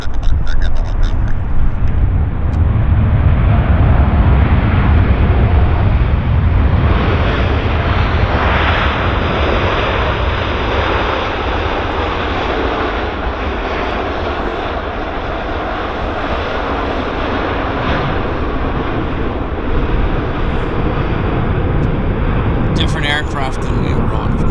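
A Boeing 787 touches down at Vancouver airport, a heavy, continuous roar of jet engines sustained at loud volume throughout, with voices talking over it.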